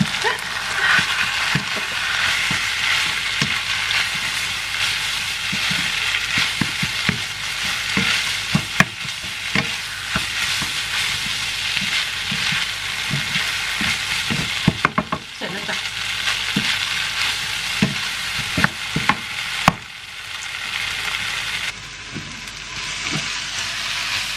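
Pad thai with thin rice noodles being stir-fried in a pan for a home breakfast gives a steady, close sizzle, broken by repeated clacks and scrapes of the utensil against the pan and no talking.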